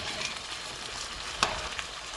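Fry aloo, potatoes cooking in a pan, gives off a steady, close sizzle with a single sharp pop partway through and no talking.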